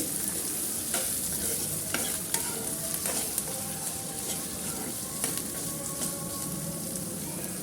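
Vegetables for paneer baby corn noodles stir-fried in a pan, a steady sizzle with repeated scraping and stirring clatters at an even pace, close and alone.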